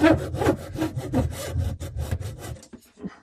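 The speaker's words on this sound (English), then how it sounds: "I'm sure you can just do this thing with the reamer outside" A reamer works inside a kitchen sink P-trap pipe, making rapid back-and-forth scraping strokes in a steady rhythm, loud and close, that stop near the end.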